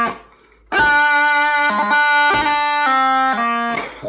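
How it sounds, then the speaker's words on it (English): Highland bagpipe plays the opening bar of the slow air Morag of Dunvegan, with a rippling grip embellishment; a steady drone underlies a loud, sustained chanter melody with quick grace-note breaks, heard alone after a brief quiet start. "So the first bar sounds like this."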